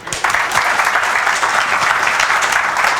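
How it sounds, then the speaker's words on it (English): Steady, dense applause from an audience at a tech event panel fills the whole stretch, loud and even without letting up. "give a big round of applause to the panel guys"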